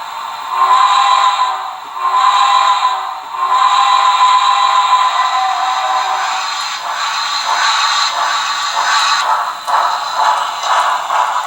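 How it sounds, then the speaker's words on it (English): HO scale BLI Reading #217 Light Pacific locomotive model producing steady electronic chuffing with a whistle-like tone, moderately loud and close, with no talking. "the engine has a way of realizing there's cars behind it, and will start chuffing more intensely"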